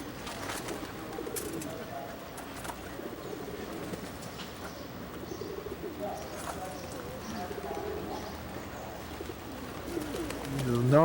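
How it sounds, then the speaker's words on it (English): Pigeons cooing outdoors in Amsterdam, soft low repeated coos amid bustling city background noise and distant voices, with a rising rumble toward the end. "The normal birds of Amsterdam. Pigeons galore."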